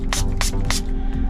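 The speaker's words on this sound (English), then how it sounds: "you want to spray the bejesus out of this thing too" Liquid sprayed from a spray bottle while fitting a screen protector, three quick bursts of hissing spray in a row, close and loud over a low steady hum.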